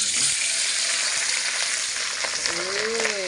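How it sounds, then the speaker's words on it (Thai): Fish frying in a pan with oil sizzles steadily and close up, a dense bright crackle throughout with a few soft stirring and utensil sounds near the end, no talk. "เบื่อจะทอดไข่ เปลี่ยน เป็น ทอด ปลาจ้ะ"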